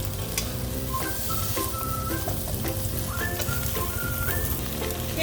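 Pad Thai noodles fry in a hot pan with a steady, close sizzle, punctuated by scraping stir strokes and faint squeaky tonal clinks from a utensil, with no talking.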